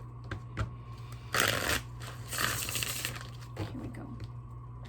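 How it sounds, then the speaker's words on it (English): Close, crisp riffling of tarot cards being shuffled in a couple of quick bursts over a faint steady hum, with soft handling noises between. "Okay, one more shuffle and then a cut."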